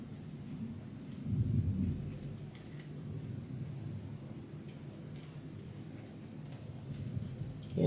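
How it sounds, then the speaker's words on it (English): Low thunder rolls and rumbles outside a craft room during a rainstorm, a steady muffled swell that builds briefly, with no talking over it. "you might hear some rumbling in my craft room because we're actually got some thunder coming. Rain and thunder."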